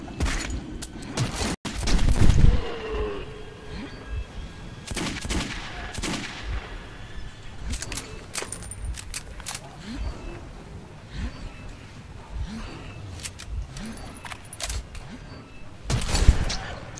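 Shotgun fire in Metro 2033, heavy individual blasts spaced several seconds apart, with the loudest around the second and sixteenth seconds, over a murky underground ambience and scattered smaller impacts.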